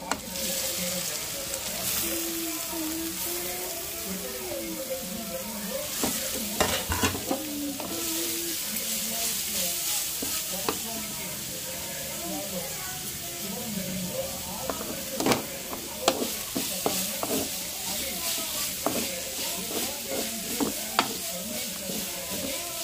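Grated carrot stir-fries in a pan over a tempering of fried spices, a steady sizzle broken by repeated scraping and clinking of a spoon against the pan, close and continuous, with no talking.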